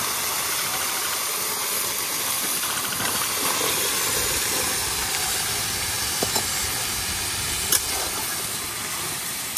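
Taro stolons being fried in a pan with a cooked-down paste of fermented dried fish, giving a steady, loud hiss and sizzle throughout, with a few faint clicks and clatters.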